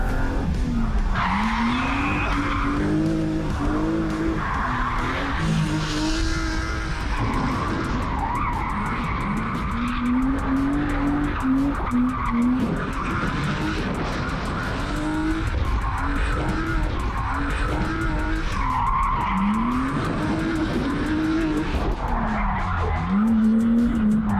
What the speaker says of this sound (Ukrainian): В цій машині Сергій навчає дрифту своїх учнів